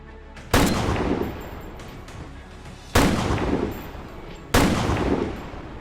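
Sniper rifle shots in a crime film, three loud sharp cracks about two seconds apart, each followed by a long echoing decay, with no speech.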